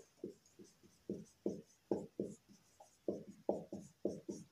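Marker or chalk scratching on a board during a maths lesson, a steady run of short rhythmic strokes, close and distinct with small pauses between word-like groups, no talking over it.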